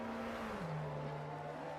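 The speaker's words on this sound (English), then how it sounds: "Looks like the safety car pulling away, heading for the pit lane to pull out of the race" A safety car engine in an F1 racing video game at Montreal pulls away, its steady tone dropping slightly in pitch as it holds a constant drone with no talk over it.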